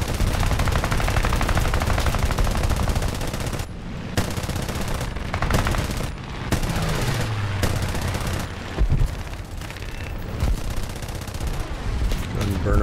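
Sustained machine-gun fire from Japanese J6B fighter aircraft in War Thunder air arcade combat, dense rapid bursts nearly continuous and loud, with short gaps and engine drone underneath.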